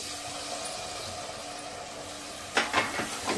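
Fresh tomatoes hit a hot pan for a South Indian chicken gravy, setting off a steady low sizzle that swells into sharper bursts of spitting and crackling near the end, close by with no voices.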